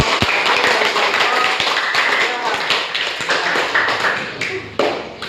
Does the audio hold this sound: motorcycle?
no